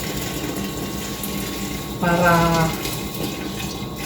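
A little water is poured into a cooking pot of mutton stew with vegetables. A continuous, splashing pour runs throughout, and a short spoken word cuts in partway through.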